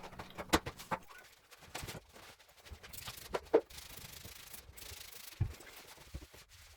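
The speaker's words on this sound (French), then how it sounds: "je vais nettoyer tout ça" A workbench in a workshop is rubbed and wiped down, giving quiet, irregular scrubbing and brushing strokes with a few sharper knocks, close by and fairly faint.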